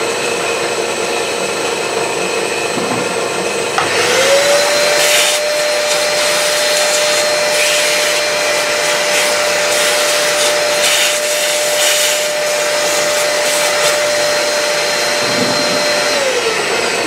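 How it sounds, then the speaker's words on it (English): A milling machine machines wood chipper blades, a loud steady mechanical whir with a sustained tonal whine that rises in as the cut begins and holds for most of the run before dropping away near the end. "it's nice to give this milling machine a bit of a run then"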